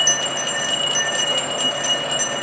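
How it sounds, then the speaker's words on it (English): A Salvation Army kettle bell rings in rapid, continuous shakes, a bright metallic jingle with sustained ringing tones, close and steady with no talking. "it's literally as simple as ringing a bell"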